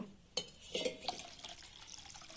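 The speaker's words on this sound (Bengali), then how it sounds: "আর একটু জল দেব।" Water is added to a ground paste of onion, garlic and coriander leaves, opening with a sharp clink followed by a brief, soft splash and sloshing close by.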